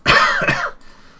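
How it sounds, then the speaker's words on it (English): One harsh, forceful cough followed by a quick second hack, close to the microphone, then quiet. "As I'm coughing and spluttering once again"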